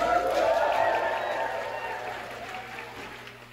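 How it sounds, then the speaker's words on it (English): An audience at a climbing competition applauds, a dense wash of clapping that starts full and gradually fades over a few seconds. "So please give yourself a huge round of applause."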